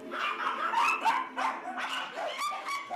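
Many dogs bark and yip in a crowded puppy mill housing over two hundred animals, a dense overlapping chorus of sharp barks with some whimpering, steady and close throughout.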